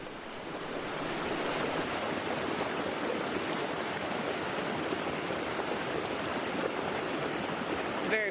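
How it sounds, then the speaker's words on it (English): Zealand Falls, a waterfall by a mountain hut in the White Mountains of New Hampshire, pours in a steady, loud, broadband roar that holds constant from start to end. "we walked just past the hut to Zealand Falls. And the waterfall here actually has a hydroelectric setup"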